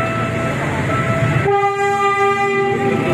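A loud, sustained train horn blasts from a passing train near a pier, where a North–South Commuter Railway connector is under construction. A rumbling wash precedes it, then steady tones hold for about two seconds.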